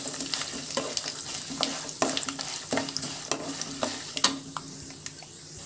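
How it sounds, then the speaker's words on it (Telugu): Peanuts and cashews fry in hot oil for a temple-style mango pulihora, with a steady close sizzle broken by scraping stirs and light clicks of the spoon against the pan. "ఇది చక్కగా వేగాయండి ఇప్పుడు వేరుశనగ విత్తనాలు అలాగే జీడిపప్పు కూడా వేసుకొని"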